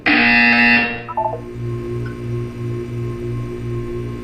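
A loud, harsh buzzer tone from Portal 2 opens, then cuts off, leaving a faint electronic hum with a low repeating pulse and a few soft chirping tones.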